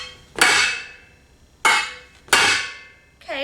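A frying pan strikes a regular glass backsplash panel three times, each a sharp ringing impact that decays over about a second, with a brief squeaky scrape at the very end and no talking.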